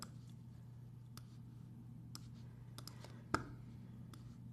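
Computer mouse clicks while picking colours in a paint program's colour square, a handful of soft, scattered clicks with one sharper click standing out, close and quiet over a steady low hum.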